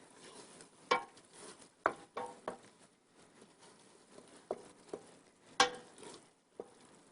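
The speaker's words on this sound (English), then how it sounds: "as I stir the white wine in, I'm going to try and scrape up as much of the tasty brown bits on the bottom of the pot as I can" A spoon stirs white wine into a pot of French onion soup, scraping browned bits off the bottom. Soft, quiet scrapes and taps come at irregular intervals over a low background.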